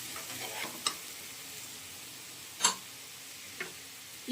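Potatoes coated in chilli powder frying in a pan, a steady faint sizzle broken by a few sharp scrapes and taps of a spoon stirring, with no voices.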